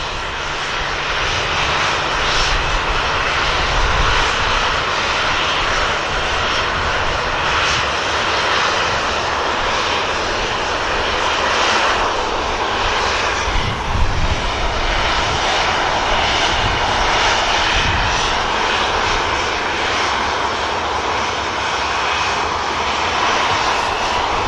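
A departing airliner at Manchester Airport roars steadily throughout, a loud broadband engine rumble with no talk over it.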